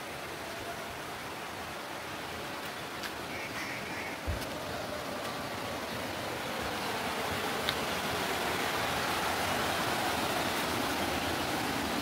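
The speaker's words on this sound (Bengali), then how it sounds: "ঋষি নদীর জলের আওয়াজ হচ্ছে" Steady broadband rush of the Rishi river's flowing water fills the scene, faint but continuous, with a soft thump or two and no voices.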